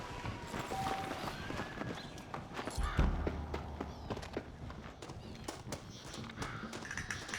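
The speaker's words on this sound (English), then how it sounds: "Looks like Carlos left us some horses" Horse hooves clip-clop in an irregular pattern in the video game Red Dead Redemption, mixed with other game sounds and a brief low thump partway through.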